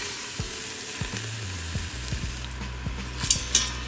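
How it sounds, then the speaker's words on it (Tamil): Onions frying in oil with green chillies, bay leaf, cinnamon, cloves, cardamom and pepper, giving a steady close sizzle with occasional scraping and stirring knocks from a spoon against the pot. "கலரி விட்டுட்டு ஆனியன்ஸ் நல்லா ஃப்ரை ஆகிற வரைக்கும் அப்படியே விட்டுருங்க"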